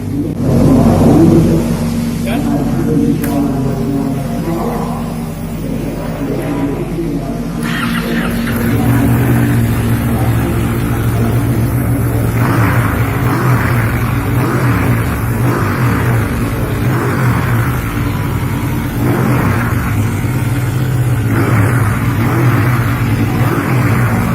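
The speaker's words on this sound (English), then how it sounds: "crank up this bike for you and make you hear how Bahrain's Superbike sounds like" A Ducati superbike engine idles, then revs repeatedly in rising bursts, loud and close, with no talking, at Dubai Autodrome.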